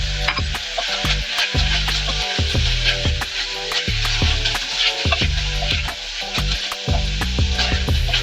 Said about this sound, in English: going to be frying the onions on very high heat